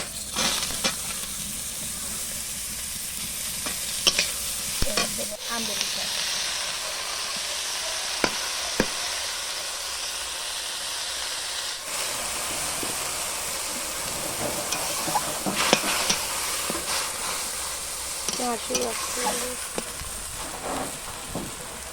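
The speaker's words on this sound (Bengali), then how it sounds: "এই দেখো টকের জন্য তেল দিছি এবার সর্ষে দিলাম" Mustard seeds crackle and sizzle in hot oil for a sour gourd dish, with steady frying hiss broken by sharp pops and occasional stirring clatter, close and fairly loud, no talk.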